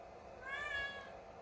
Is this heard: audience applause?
no